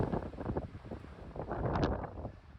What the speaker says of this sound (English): love the sound of that. The wind blowing.